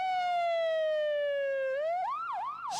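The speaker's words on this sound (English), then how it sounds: "Streams of ambulances came to carry away the dead and the injured." An ambulance siren wails loud and close, a long falling tone that then breaks into rapid rising and falling yelps, heard alone.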